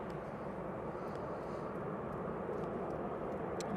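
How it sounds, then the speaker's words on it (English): Ryanair Boeing 737 arriving at Manchester Airport from Dublin gives a soft, steady distant jet rumble and hiss, faint and unbroken, with no speech. "This Ryanair is coming from Dublin."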